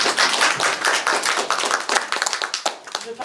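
Applause from a small audience at an art talk, a dense patter of hand claps that thins toward the end, with a voice or two mixed in.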